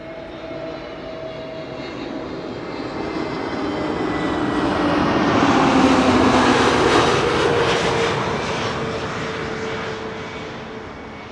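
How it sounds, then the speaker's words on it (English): A Boeing 737-500 airliner at Schiphol passes with a loud swelling jet engine roar that peaks midway and slowly fades, heard alone without talk. "There's the 737-500."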